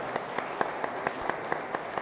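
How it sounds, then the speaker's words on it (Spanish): Church congregation at a Catholic Mass clapping in unison, a rhythmic, evenly spaced beat of many hands at a moderate level, with a diffuse patter of scattered claps between the strong beats. "Fuerte aplauso entonces para nuestra comunidad."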